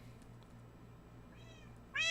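Small cat meowing in the video game Minecraft, a couple of short high mews arriving near the end over a low steady background hum.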